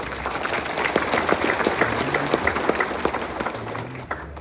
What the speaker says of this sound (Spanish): a los que pido un fuerte aplauso, por favor